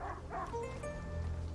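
A dog barks and yips inside the video game A Plague Tale: Innocence, a few moderately close yelps over steady low game ambience and music, with no one talking.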